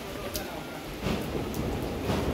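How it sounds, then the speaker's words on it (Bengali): Heavy rain pours down outdoors in a steady, dense hiss that swells slightly partway through, with a faint background murmur. "এই যে প্রচন্ড বৃষ্টি হচ্ছে"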